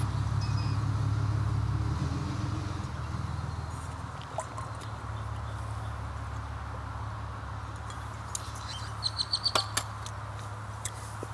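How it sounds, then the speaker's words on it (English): A truck drives by on a road: a low engine rumble, strongest at the start, fades away over the first few seconds, followed by faint ambient outdoor noise with a few light clicks and chirps. "There's a truck coming by."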